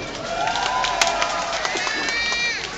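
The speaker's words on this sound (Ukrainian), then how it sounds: "оплески для нього" An outdoor crowd at the Stryi city day celebration cheers and shouts, with a few voices calling over the general roar.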